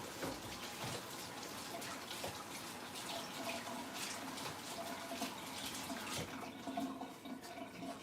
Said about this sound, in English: I need to get my hands washed.